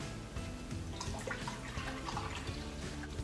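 Tap water runs and splashes into a measuring cup for cake batter, a close, quiet stream with gurgling and dripping.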